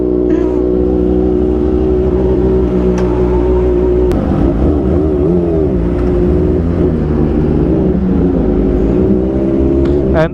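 A Kawasaki ZX25R motorcycle fitted with an Arrow Pro Race exhaust idles and revs up close, its loud, continuous, rich engine note rising and falling in several blips.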